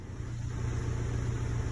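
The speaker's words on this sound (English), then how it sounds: "Started the car up, plugged in the code reader, erased the previous codes" A 2006 Chevrolet Colorado engine runs just after starting, a steady low idle rumble heard up close with no voices.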